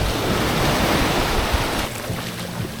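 Ocean surf on a long beach in Penang, Malaysia, a dense close wash of breaking water that rolls on loudly and then eases slightly toward the end.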